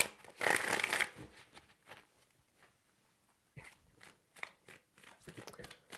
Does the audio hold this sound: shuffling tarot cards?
yes